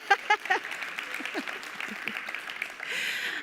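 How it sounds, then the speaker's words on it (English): Conference audience at a medical education talk on autism applauding, a few sharp claps near the start then a softer, scattered patter of clapping from a distant crowd, faint overall. "Applause, please."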